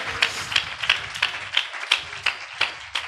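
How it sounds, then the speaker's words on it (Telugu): Church congregation clapping loudly together during a Telugu worship service, a steady series of sharp, bright hand claps repeating about three times per second with no talk over them. "గట్టిగా చప్పట్లు కొట్టి యేసుకి మహిమ చెల్లిద్దాం."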